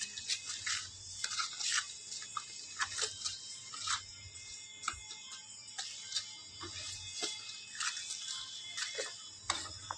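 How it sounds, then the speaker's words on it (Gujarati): Gunda pickle with jaggery being stirred in a pot, giving a steady run of soft scraping and faint clicking strokes, fairly quiet and unhurried, with no talk over it. "હલાવવાનું ચાલુ છે."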